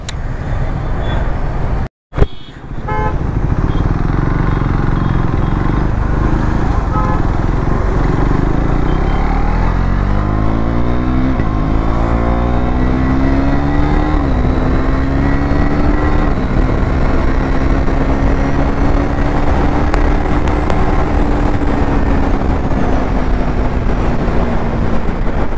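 A KTM Duke 390 motorcycle fitted with a new spark plug, ridden fast at night, its engine droning continuously as the pitch climbs through the gears with a brief drop early on, loud and steady.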